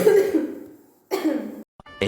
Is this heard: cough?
yes